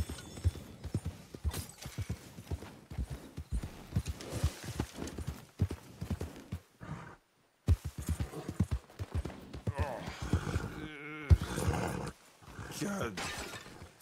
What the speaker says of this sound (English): Damn drunk horse.